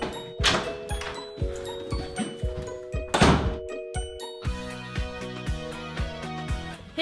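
Repeated hollow knocks on a door sound at a steady rhythm over sustained tonal music, fairly loud and close throughout.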